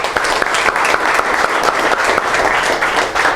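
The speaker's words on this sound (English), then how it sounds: "let's give them each a big round of applause" An audience at a chapter gathering applauds its long-serving members with a dense, continuous burst of clapping that stays loud and even for a few seconds.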